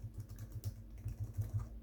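Quick, irregular key presses on an Acer Extensa 5220 laptop keyboard as keys are tested, soft and close, with no voices.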